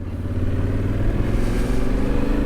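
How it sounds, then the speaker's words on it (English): A Yamaha T7 Rally motorcycle climbing an off-road hill in second gear, its engine a loud, steady, close drone that stays constant throughout without talk. "I'll take this in second gear, just make sure I get up this hill, no bother."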